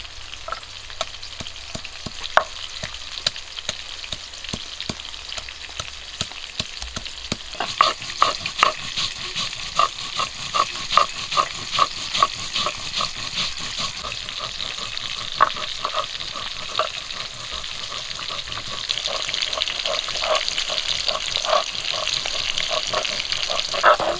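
Oil sizzling steadily as ingredients drop into it for a rohu fish curry, with a run of sharp clicking stirs and scrapes through the middle and a louder, denser crackle building toward the end; no talking.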